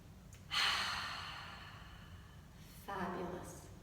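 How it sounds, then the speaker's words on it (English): A long, deep breath taken at the close of a gentle movement relaxation session, a soft airy inhale followed by a slower exhale, close and breathy with no talking. "One nice big breath to finish off."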